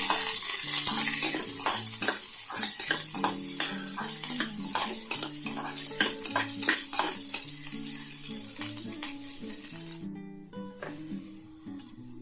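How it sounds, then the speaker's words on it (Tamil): Finely chopped large onion sautéing in a pan for a quick tiffin sambar, with repeated rhythmic spatula scrapes and clinks over a soft sizzle, close by, ending in a brief quieter moment. "ஒரு பெரிய வெங்காயம் பொடியாக கட் பண்ணி வச்சுருக்கேன், அதை போட்டுக்கலாம். நல்லா வதக்கி வச்சுக்கலாம்."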